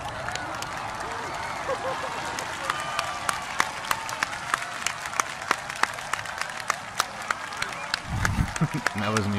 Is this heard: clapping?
yes